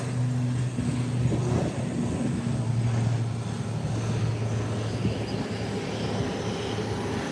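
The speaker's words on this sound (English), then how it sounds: "The ATR is on the runway and it's gaining momentum" ATR turboprop airliner accelerating down a runway for takeoff, a steady loud engine roar with a droning low hum that holds throughout, heard from outside at moderate distance.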